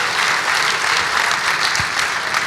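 An audience at a community talent show claps for a sponsor, a dense, continuous round of applause from a sizeable crowd that holds steady for a couple of seconds with no voices on top.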